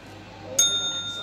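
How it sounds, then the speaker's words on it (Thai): A cat strikes a small bell with its paw, producing a single bright ding midway that rings on and slowly decays over a low, steady background hum. "ให้โดนให้โดนกระดิ่ง"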